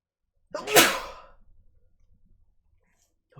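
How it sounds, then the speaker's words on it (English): A single loud, sharp sneeze bursts out close by, followed by a short fading breathy tail and near silence. "I need to sneeze."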